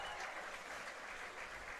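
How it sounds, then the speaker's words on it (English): Applause from the crowd at an outdoor baseball stadium, a steady, fairly distant wash of clapping that holds at an even level throughout, with no distinct voices standing out. "You can hear some applause from the stadium here at Shirley Povich Field."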